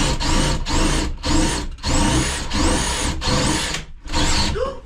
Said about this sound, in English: I don't want to break Steve's drill.